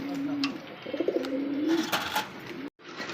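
A pair of large muffed Rajgola pigeons coos close by in low, wavering tones that rise and fall, with a brief break near the end and no talk.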